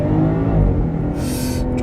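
BMW 540i xDrive M Sport G30 in Sport mode accelerating hard, a steady deep engine drone and road rumble from inside the cabin, with a brief brighter rush of noise near the end.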